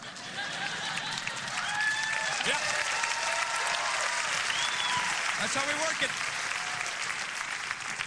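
Steady clapping from a podcast studio audience runs throughout at moderate level, with someone talking and bits of vocal chatter over it.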